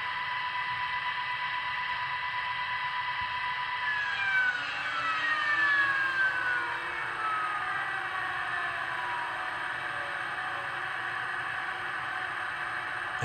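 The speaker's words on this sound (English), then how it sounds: "what you just heard was the turbine shuts down" HO-scale Rapido RTL Turboliner model train sound: a steady whining turbine tone with several pitches gliding downward as it winds down, followed by a lower electric motor hum rising in, over a constant background drone.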